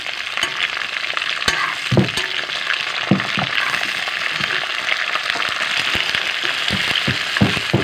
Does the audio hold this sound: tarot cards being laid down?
no